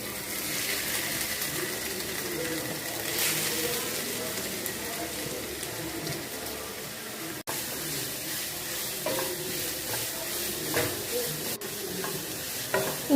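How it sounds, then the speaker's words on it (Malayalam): Grated carrot sizzles in hot ghee while being stirred, a steady frying crackle with scraping stirs and a couple of sharp clicks, close and continuous. "ഈ ചൂടാക്കിയ നെയ്യിലോട്ട് നമ്മുടെ ക്യാരറ്റ് നമുക്ക് ഇട്ട് കൊടുക്കാം"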